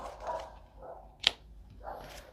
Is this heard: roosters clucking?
no